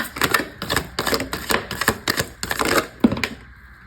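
Tarot cards being shuffled and pulled from the deck, a run of quick, crisp papery flicks and snaps in an uneven rhythm, close and fairly loud, with no talking.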